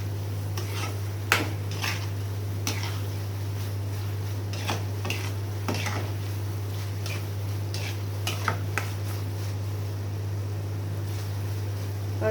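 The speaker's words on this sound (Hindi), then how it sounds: "पनीर डालने के बाद हमें अच्छे से मिलाना है।" Mashed paneer being stirred into bhurji in a pan, with scattered scraping and clinking utensil strokes over a constant low hum, close but moderate in level.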